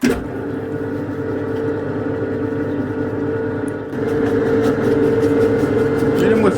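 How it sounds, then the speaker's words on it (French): An old household electric hand mixer whirring steadily as it beats boilie bait dough made with water, flavourings, sweetener and oil, a constant motor drone that steps up in pitch and loudness midway, close and loud, with talk alongside. "J'ai l'ancien batteur de la maison"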